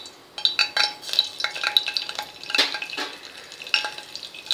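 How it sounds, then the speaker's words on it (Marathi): Cumin seeds crackle and sizzle in hot oil during preparation of a Maharashtrian field bean curry, with a steady bright fizz and repeated sharp pops and spits close by, alone without talk. "जिरे फुलू द्यायचे तेलात."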